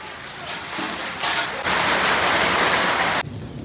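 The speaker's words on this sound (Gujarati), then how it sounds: "જોર વરસાદ પડ્યો" Heavy rain pours down in a dense, hissing roar close by, surging louder in two waves before cutting back to a lighter patter at the end.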